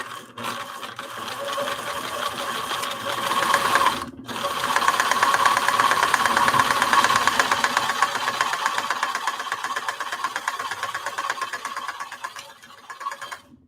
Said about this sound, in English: I am doing a little bit of back stitching so that he doesn't come unsewed